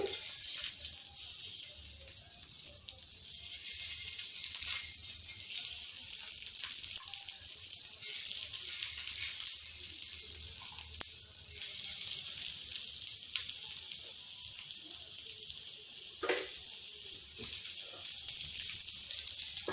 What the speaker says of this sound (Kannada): ಅದಕ್ಕೆ ಸ್ವಲ್ಪ ಎಣ್ಣೆ ಹಾಕ್ತಾ ಇದ್ದೀನಿ ಇದು ಒಂದೊಂದೇ ಇದರಲ್ಲಿ ಹಾಕಿ ಈ ಥರ ಹೊರಳಿಸಿ ಅಲ್ಲಿ ಸುಡೋಕೆ ಬಿಡಬಹುದು